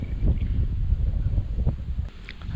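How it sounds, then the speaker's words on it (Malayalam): Steady wind buffeting the microphone, a low rumbling roar with gusts, loud and close, with faint rustling in the background. "പക്ഷേ നല്ല സുഖമുള്ളൊരു കാറ്റുണ്ട് ഇപ്പം"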